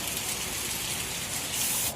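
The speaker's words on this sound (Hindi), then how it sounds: "ये देखिए बारिश कितनी तेज हो रही है" Heavy monsoon rain pours down steadily with dense hiss and spray, gushing into overloaded street drains, loud and continuous for the whole stretch without any voices.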